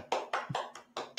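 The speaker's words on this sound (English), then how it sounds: "My studio audience is also clapping." A studio audience claps in a short burst of six sharp, evenly spaced claps, close and distinct with silence between them.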